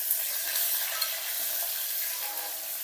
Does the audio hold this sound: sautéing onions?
yes